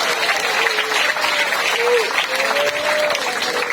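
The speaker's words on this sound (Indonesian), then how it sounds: "Kasih tepuk tangan kepada Tuhan" A church congregation claps and cheers for God during a sermon, a dense, steady wave of applause with a few voices rising through the crowd noise.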